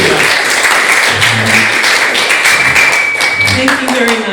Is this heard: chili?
no